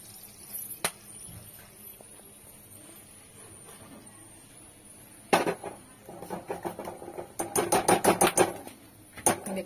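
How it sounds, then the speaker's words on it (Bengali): Cloves crackle and pop in hot oil while a spice paste fries, sharp scattered pops growing denser and louder toward the end over a faint background. "এই লবঙ্গগুলো ফাটে বলেই বিরক্ত লাগে।"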